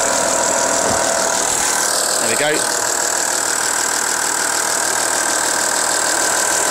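A Skoda Superb's 2.5 litre V6 engine idles steadily and loudly up close, a constant rumbling hum, with someone speaking briefly over it.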